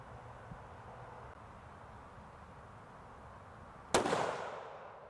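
A single sharp rifle shot from a CVA Cascade XT firing Hornady American Whitetail ammunition bursts out near the end of a quiet outdoor stretch, followed by a rolling echo that fades away.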